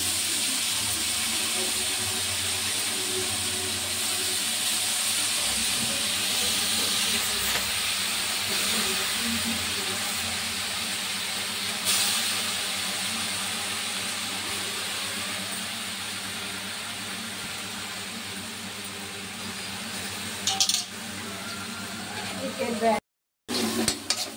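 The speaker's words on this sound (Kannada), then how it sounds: "ಈಗ ತೊಳ್ಕೊಂಡಿರೋ ಸೊಪ್ಪನ್ನ ಚೆನ್ನಾಗಿ ಸ್ವಲ್ಪ ನೀರು ಮಾಡಿ ಫ್ರೈ ಮಾಡ್ಕೊಂಡ್ವಿ" Washed dill greens frying in a pan with a little added water give off a steady, close sizzling hiss that runs unbroken for most of the stretch, with a few brief knocks near the end.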